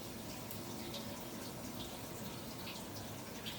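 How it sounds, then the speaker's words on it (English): Lukewarm tap water runs steadily while a wire-haired Kaninchen dachshund is rinsed during a bath, a constant soft hiss and splash of water pouring over the fur with no talking. "And then I rinse everything very nicely."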